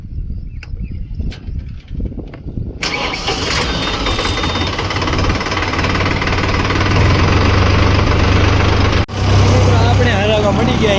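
Automatic plough engine starting and running while ploughing a farm field: after a few quiet knocks, a loud, steady engine roar kicks in and drones on with a knocking idle rhythm, with a brief dip near the end.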